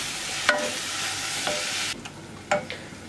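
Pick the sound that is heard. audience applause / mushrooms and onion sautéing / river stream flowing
mushrooms and onion sautéing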